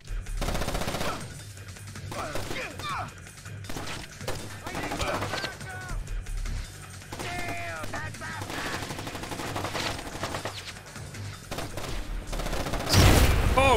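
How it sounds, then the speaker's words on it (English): Gunfire in the video game Splinter Cell: Chaos Theory, rapid bursts of automatic shots rattling repeatedly amid game sounds, with someone talking over much of it. "I'm getting shot at."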